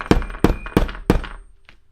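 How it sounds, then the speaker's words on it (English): Four sharp, evenly spaced thuds ring out as a hole is punched in a homemade gasket, each a close, decisive hammer strike on the punch, followed by a faint light tap. "give it a nice decisive thud"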